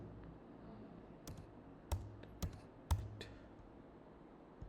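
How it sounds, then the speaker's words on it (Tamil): Sparse keystrokes tap on a computer keyboard while HTML and CSS are written, a handful of isolated clicks spaced unevenly over a low steady room hum, fairly quiet and close. "இல்லாட்டி நானே டைப் பண்ணுறேன்"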